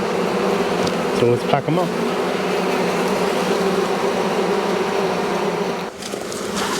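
Bees swarm and buzz around an open hive in an Australian bee yard, a dense continuous hum close to the listener, with someone speaking briefly over the buzzing.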